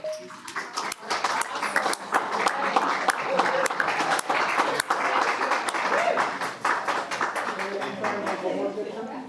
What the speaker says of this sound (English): All right, we clap.